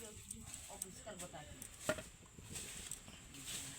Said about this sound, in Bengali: বেগুনগুলোকে পাতলা পাতলা করে কেটে নেব